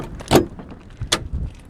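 A 1975 Austin Allegro 1100 Deluxe door opens outdoors in windy weather, heard as two short, close mechanical clunks with a faint rattle between them.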